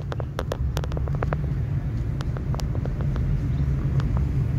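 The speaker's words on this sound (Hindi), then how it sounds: "अपने आप ही जाएगी यहाँ पे गाड़ी, स्लो करो और स्लो करो" A car coasting downhill with the clutch pressed on the Nahargarh Fort road, a steady low rumble from inside the cabin, with scattered faint clicks and taps over it.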